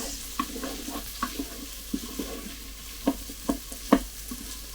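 Garlic fries in a Cosori pressure cooker for pea and ham soup, a soft steady sizzle broken by repeated scraping stirs and clinks of a utensil against the pot, no voices.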